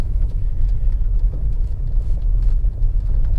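A BMW E92 335i with an N54 engine, running a hybrid turbo and misfiring on one cylinder, idles along while driving, giving a steady low rumbling drone heard from inside the cabin with no talk.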